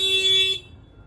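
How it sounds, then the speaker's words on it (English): A Honda Civic's factory alarm, tripped by its shock sensor after a window is struck, gives a loud electronic tone with a piercing high component that stops abruptly after half a second, followed by quiet. "Fires off the alarm."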